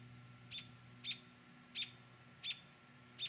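A mother bird chirps anxiously near her fledgling chick beneath boards, five sharp high chirps spaced evenly about once every 0.7 seconds over a low steady hum.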